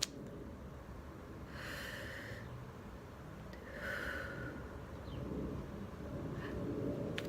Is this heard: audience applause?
no